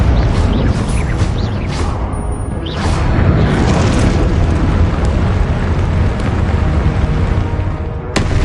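Repeated fiery blast spells from a Hogwarts wizard video game, loud rumbling booms and whooshing bursts rolling over each other in a dense, continuous barrage with a sharp crack near the end.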